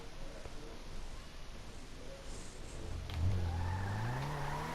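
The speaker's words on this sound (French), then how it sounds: "Vous ressortez avec la voiture." A car pulls out of a garage in GTA V, its engine rising into a louder, climbing tone partway through over steady road and ambient noise.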